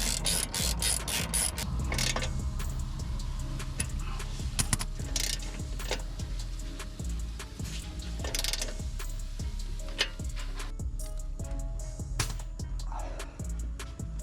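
Ratchet wrench with a 14mm socket and an E14 Torx socket tightening a front strut bolt on a BMW 5 Series, giving a steady run of close, sharp clicking strokes in repeated bursts against a constant background hum.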